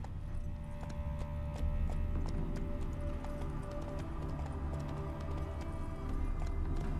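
Galloping hooves of Roach, Geralt's horse in The Witcher 3: Wild Hunt, pound in a steady, continuous clip-clop over ambient game background, close and moderately loud throughout, with no talking.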